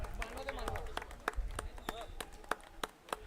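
An audience at a Dhapewada bhajan competition claps to welcome a harmonium player: sparse, irregular sharp claps over a murmuring crowd and background voices.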